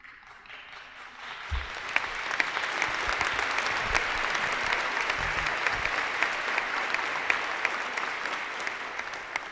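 Audience applause during a Catholic talk by Monsignor Jonas Abib starts after a quiet moment and builds into steady clapping that holds and slowly thins, with scattered sharp claps standing out.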